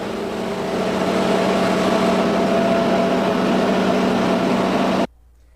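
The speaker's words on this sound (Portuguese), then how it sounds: "Este motor hidráulico que aciona o cabo da ponte rolante transforma energia hidráulica em energia mecânica através de movimentos rotativos." A hydraulic motor drives the cable of an overhead crane, giving off a steady, loud mechanical hum with a constant whine that runs unbroken for about five seconds and then stops abruptly.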